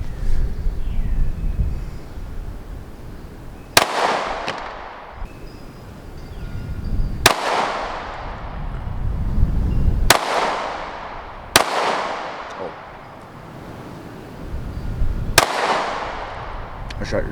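Six sharp pistol shots from a Sig Sauer P365 XMacro ring out at an outdoor range, spaced a few seconds apart, each a loud crack with a decaying echo over steady wind and background noise.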